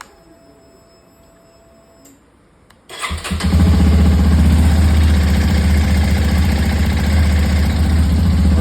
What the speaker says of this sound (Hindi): चलो अभी कोल्ड स्टार्ट करते हैं,